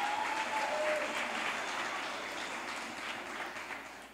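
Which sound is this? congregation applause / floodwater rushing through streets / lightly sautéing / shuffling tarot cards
congregation applause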